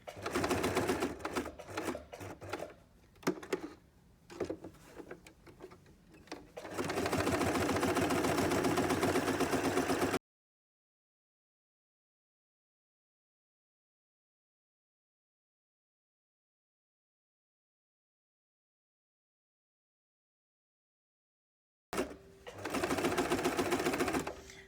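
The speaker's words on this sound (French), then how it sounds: "J'accompagne mon tissu pour tourner en même temps que mon aiguille, elle pique." A sewing machine stitches fabric in steady, fast mechanical bursts, with short stop-start runs first and then a longer continuous run. A long stretch of silence follows before the stitching resumes briefly.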